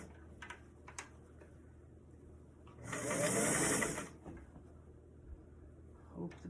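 A sewing machine stitches a beret in one steady run of about a second, close and moderately loud, set against quiet room background with a few faint clicks and handling noises around it.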